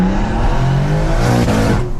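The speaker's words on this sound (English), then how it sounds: "maybe it's not such a good idea letting it pop and bang at this time of night" A BMW M140i with a big turbo and a screamer exhaust pipe revs hard on a night drive, its engine note rising and falling loudly, with a brief sharp crack near the middle.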